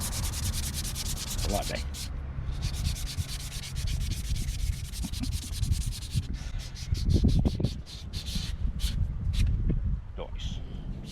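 Sandpaper rubbed over a wooden guitar stand in steady, rasping back-and-forth strokes, fairly close and continuous, with someone briefly talking over it.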